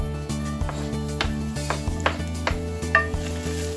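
Garlic, about six cloves, sizzling in a little hot oil in a pan, a steady fry with clinks of a utensil against the pan throughout.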